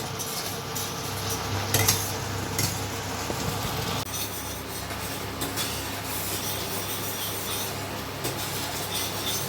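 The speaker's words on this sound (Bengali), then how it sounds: "মশলাটাকে বেশ ভালো করে কষাতে হবে, যাতে মশলা থেকে কাঁচা গন্ধটা চলে যায়।" A spice masala with ground green chili is being cooked down in a pan for begun masala. A utensil keeps scraping and clattering against the metal over a constant low sizzle, with no one speaking.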